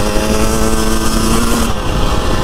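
A Husqvarna TE300i enduro motorcycle revs hard and close on a trail ride, its engine sustaining a loud, steady buzzing drone that dips briefly near the end.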